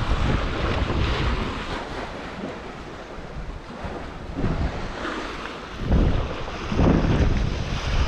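Waves crash onto the shore of a bay at Priozersk, Kazakhstan, in repeated surges, rising and falling, with wind rumbling over the microphone between the nearby breakers.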